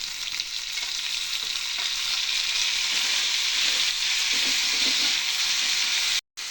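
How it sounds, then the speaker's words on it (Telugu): Ginger and garlic fry in a hot pan with a steady, dense sizzle that holds at an even loudness throughout, close up and without talk, cutting off briefly near the end. "కొంచెం అల్లం వెల్లుల్లిపాయ వేస్తాను. మంచిగా వేగిపోయినాయి కదా ఫ్రెండ్స్."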